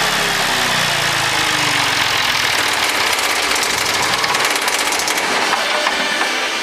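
An asynchronous electric motor, disconnected from the grid and no longer powered, spins down toward rest, giving a steady, loud mechanical whir with a low tone that gradually falls in pitch.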